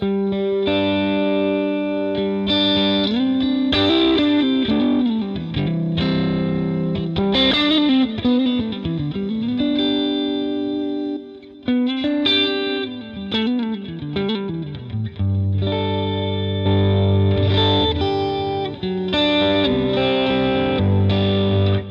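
Electric guitar played through an SDD preamp delay rack unit for a chiming tone, bright distorted notes and chords ringing out with audible delay repeats and modulated swells, loud and continuous.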